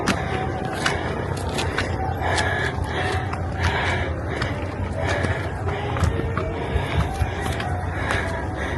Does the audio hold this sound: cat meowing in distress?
no